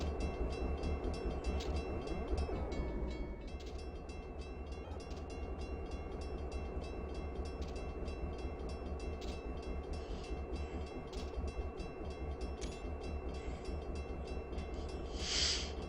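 A BN GP38-2 diesel locomotive in Train Simulator 2016 on the Lapwai Canyon Railway, a steady engine drone with wheel and rail noise running throughout, close and continuous with no talk.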